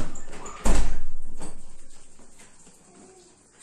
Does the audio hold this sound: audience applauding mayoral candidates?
no